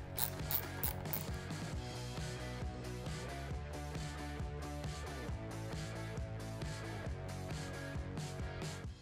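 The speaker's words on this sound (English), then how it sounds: "Now I'll remove these two Torx screws that are screwed on from the support bracket to the gauges." A ratchet turns out T25 Torx screws from the support bracket behind the gauges on a Harley-Davidson Street Glide inner fairing, giving a steady run of fast clicking over a continuous tonal background.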